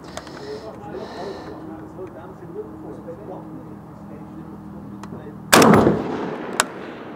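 SA80 L85A1 5.56mm rifle fired at an outdoor range: one loud, sharp shot near the end stands out against steady background murmur and faint voices, followed by a smaller report.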